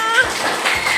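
A voice imitates a cat, drawing out short meows in quick succession, close and clear.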